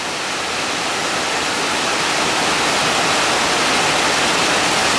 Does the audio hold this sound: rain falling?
yes